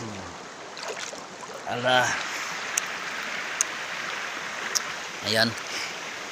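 A river in a mountain setting flows with a steady, broad wash of water throughout, a few brief voices speaking over it and small clicks and splashes now and then.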